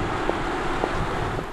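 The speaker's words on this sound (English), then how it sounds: "Just tire and wind noises." An Audi R8 e-tron electric supercar moves with no engine sound, leaving only a steady, moderate rush of tire roar and wind noise.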